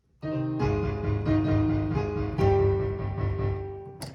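Piano playing the FNAF theme with both hands together: steady low chords under a repeating upper melody, close and full, with sustain blurring the notes and no voices.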